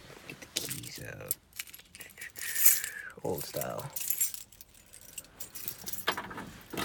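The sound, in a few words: car keys jangling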